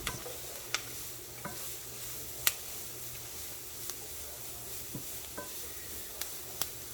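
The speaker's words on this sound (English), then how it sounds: "I'm just going to stir this around for probably another 5 minutes or so till everything is nice and cooked" Stirring creamy chicken noodle soup in a pot, with a steady soft scraping and bubbling bed broken by scattered sharp clinks of the utensil against the pot, moderately close and with no talking.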